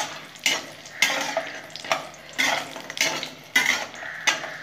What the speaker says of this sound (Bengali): 10টা বড়ি আছে, এগুলো ভেজে নেবো, লাল লাল করে ভেজে নেবো